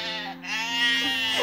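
Sheep bleating in a field at night, a single drawn-out, wavering bleat close by and fairly loud, with no talking.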